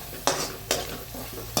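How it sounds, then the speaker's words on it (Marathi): Onion frying in a pan for a brinjal fry, three sharp spatula scrapes spaced under a continuous close sizzle, no talking. "इथे बघा आपला कांदा असा शिजतोय, बघू शकता. हा छान फ्राय करून घ्यायचा"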